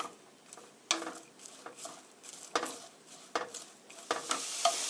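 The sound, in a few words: stir-frying cabbage for spaghetti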